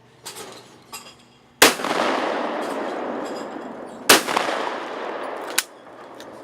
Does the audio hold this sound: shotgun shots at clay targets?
yes